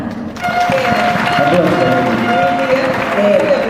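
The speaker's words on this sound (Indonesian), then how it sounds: "Boleh dong kasih tepuk tangan?" A seminar audience applauds, a dense crowd clatter swelling after a brief quiet start, with voices and cheering layered over the clapping.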